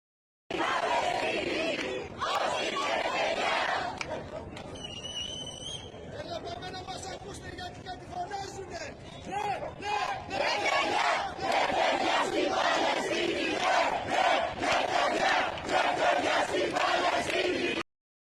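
Protesters at the port of Syros chanting against a cruise ship, a loud crowd roaring slogans in rhythmic bursts with shouting and babble, a brief whistle-like tone near the start and steady crowd noise to the end.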